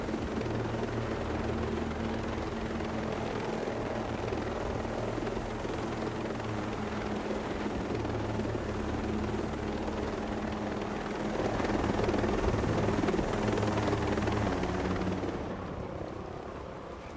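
A helicopter in the tactical shooter Ghost Recon Breakpoint, its rotor chop and engine droning loudly and continuously, swelling slightly near the end before easing off, with no talk.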